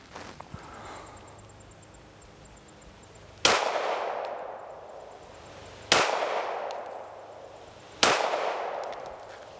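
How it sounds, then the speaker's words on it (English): Three sharp shots from a Stoeger STR-9S Combat pistol fired at 5 yards on a range, each a loud crack with a ringing tail, spaced a couple of seconds apart. "So I'm gonna start out with the Stoeger to see if I still know what I'm doing."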